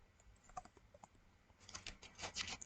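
The slider top of a Ziploc bag is pushed up and down, making faint, close plastic clicks and scrapes in a quick irregular patter that grows busier toward the end.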